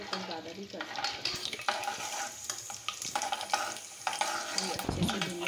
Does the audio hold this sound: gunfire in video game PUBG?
no